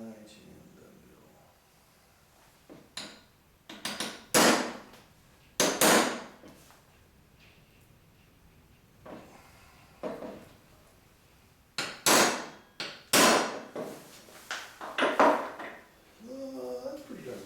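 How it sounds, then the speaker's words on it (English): Sharp, close hammer strikes in irregular clusters while fitting a Navigator onto a ski, several blows in quick bursts separated by quiet gaps, with a faint rustle of handling between. "Hammer."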